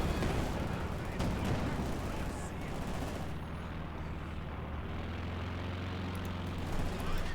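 Rapid submachine gun fire crackles through a Company of Heroes 2 battle, with dense continuous gunfire and low rumbling artillery under a steady wash of combat noise.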